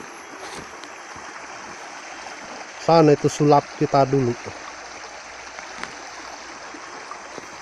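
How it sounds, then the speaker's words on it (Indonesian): A river in the rainy season, its water running higher than usual, makes a steady, soft rushing flow that continues under a few seconds of nearby talking. "Ini adalah sungai sekarang ini yang sangat disayangkan sebab sudah tercemar."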